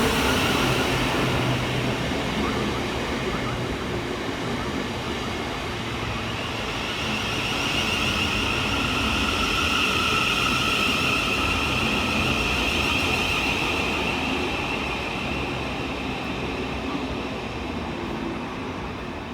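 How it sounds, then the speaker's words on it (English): Two coupled Southeastern Class 707 electric trains pull into a suburban station on the Hayes line, a steady, loud rolling rumble with a rising motor whine and brake hiss that goes on for about twenty seconds, with no voices. "Arriving next into the station is 707-014 and 707-009, with the 1234 Southeastern service from Hayes through to London Charing Cross"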